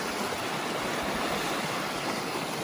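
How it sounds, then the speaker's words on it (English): Fast-moving stream water rushes steadily, a dense, continuous close-up roar with no breaks. "You can see the fast moving water coming down here"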